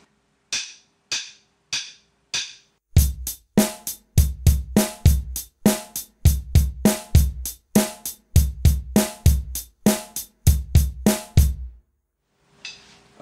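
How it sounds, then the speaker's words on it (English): A drum kit plays a basic beat in 7/8 time with eighth notes on the hi-hat, after four count-in clicks, with loud kick and snare hits in a steady odd-metered groove. "it's a basic drum beat based in 7/8 time signatures"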